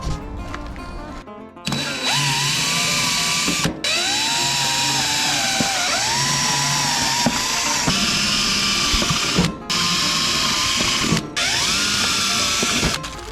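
Power drill pre-drilling screw holes while mounting MORryde StepAbove RV steps, a loud, close motor whir running in long stretches with brief pauses and pitch dips as the bit bites in.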